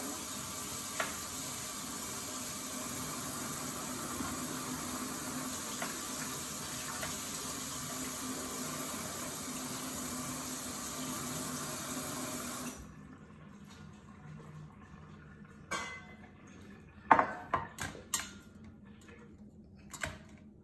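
A lobster tail is rinsed under a running kitchen tap, a steady close gush for about thirteen seconds that then cuts off, followed by a few scattered clicks and knocks.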